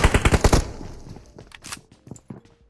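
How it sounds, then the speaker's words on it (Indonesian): Rapid automatic gunfire in the PUBG Mobile video game rattles out loud and close for about half a second, followed by fainter scattered shots and clicks. "Tembak Mea, tembak Mea"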